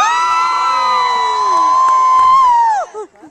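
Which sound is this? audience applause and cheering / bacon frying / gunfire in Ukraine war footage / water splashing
audience applause and cheering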